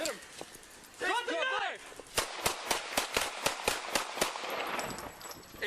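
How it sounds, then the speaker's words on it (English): A rapid volley of about a dozen sharp, close gunshots rings out during a police confrontation over a suspect with a knife, following a stretch of shouting and a rising siren-like wail. "shots fired, shots fired"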